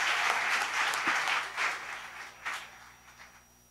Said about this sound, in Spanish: Un fuerte aplauso de nuevo para Keki